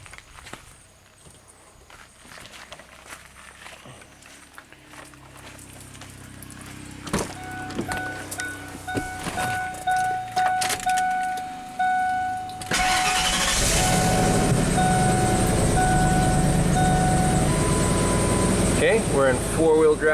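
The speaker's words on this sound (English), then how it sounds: "So let's fire up the truck." A Ford F150 pickup, checked for a four-wheel-drive fault, cranks over after a few thunks and shuffling, then catches and settles into a loud, steady close-up idle.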